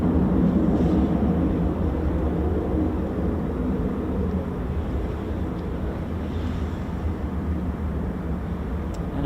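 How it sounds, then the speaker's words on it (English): F-15 fighter jets taxiing at RAF Lakenheath, a steady broad distant roar of jet engines with wind rumble, continuous and fairly even throughout, no talk. "Plenty of F-15s taxiing out and awaiting departure"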